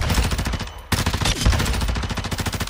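Rapid automatic gunfire from the shooter game DMZ rattles off in two dense, close bursts separated by a brief gap, loud and alone.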